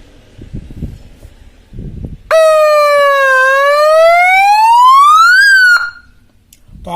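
A loud horn siren sounds alone for several seconds, its tone dipping, then sweeping steadily upward before cutting off abruptly, with some faint background noise before it starts.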